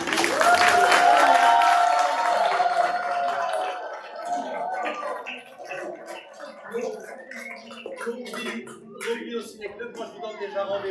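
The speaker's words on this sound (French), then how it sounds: "Donc je voudrais qu'on les applaudisse tous bien fort." Audience applause for children at a cinema screening, a loud burst of clapping and cheering in the first seconds that thins into scattered claps and murmuring voices.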